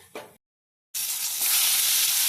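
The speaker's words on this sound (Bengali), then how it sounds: "ফোড়নে দেওয়া হচ্ছে কালো জিরে।" Black cumin seeds hitting hot oil for tempering, a short clatter and then, after a brief silence, a loud, dense sizzle that swells and holds steady.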